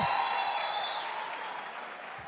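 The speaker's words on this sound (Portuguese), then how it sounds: "Vamos aplaudir bem forte a Jesus Cristo." Congregation applause at a church conference, a steady wash of clapping that fades gradually over about two seconds.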